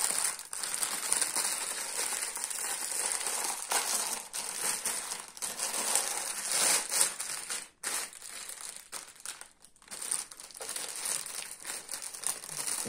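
Factory packaging of a Toshiba 43UA6B63DG television is pulled open: continuous close crinkling and crushing of plastic wrap and packing material, with brief pauses and no talking.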